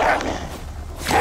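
An alpha wolf in the survival video game Icarus growls and barks, two loud, close bursts at the start and end with a quieter rumble between them.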